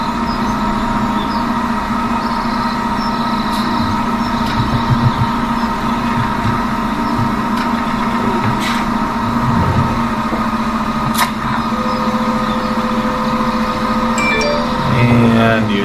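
A tractor engine hauling a heavy plow runs loud and steady, its low rumble holding a constant tone throughout with occasional clanks and rattles mixed in.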